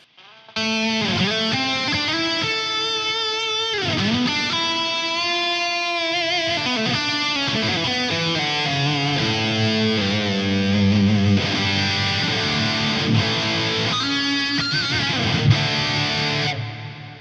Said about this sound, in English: Let's kick in the distortion as well.